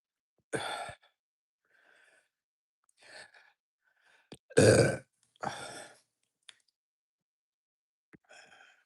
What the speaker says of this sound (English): Got a little bit of the pepper burp or tincture burp.